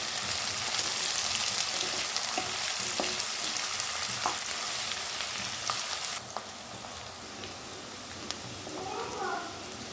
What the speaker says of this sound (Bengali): এবার পেঁয়াজ বেরেস্তা করবার জন্য আমি কুচি করে রাখা পেঁয়াজগুলো এতে দিয়ে দিলাম।